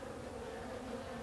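Steady, close buzzing of many honey bees, a continuous droning hum with no talking.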